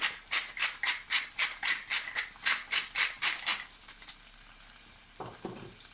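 Meat sautéing in a pan with salt for homemade butter iskender, rhythmic scraping stirs repeating about twice a second over a sizzle, then quieter frying with a couple of clinks, close and without talk.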